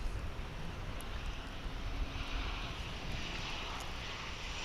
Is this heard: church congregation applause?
no